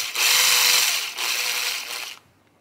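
An M3 by 30 screw is power-driven into a belt drive bracket, a loud whirring drive burst of about two seconds with a brief dip midway before stopping.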